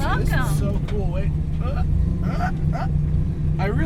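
A 650 HP 1969 Camaro track car by Detroit Speed rumbles steadily at close range, a constant low engine drone running throughout beneath people talking over it.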